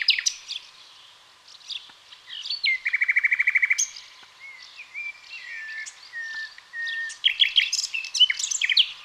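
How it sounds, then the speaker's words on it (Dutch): A nightingale sings in Dutch countryside, a close, loud run of varied phrases: fluting whistles, a rapid buzzing trill and sharp chirping bursts, heard alone without talk. "Wat je hoort is een nachtegaal."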